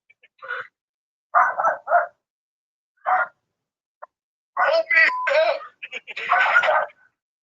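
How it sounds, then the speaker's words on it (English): A dog barks in short bursts, a few separate yaps spread across the clip, followed by a busier stretch of sound mixed with voices. "You can hear a dog barking."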